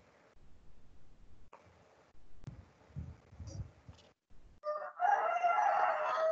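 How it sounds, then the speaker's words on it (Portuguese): A rooster crows somewhere near a home during an online meeting. The crow rings out loudly near the end, after quieter stretches of faint background noise and small knocks. "tem um galo aí cantando"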